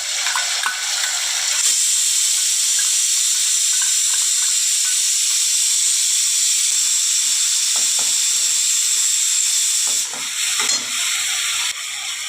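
Garlic and ginger paste added to fried onions, a loud continuous close sizzle and hiss from the hot pan with a few light stirring scrapes, no voices.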